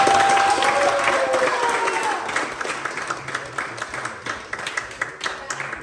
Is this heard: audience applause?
yes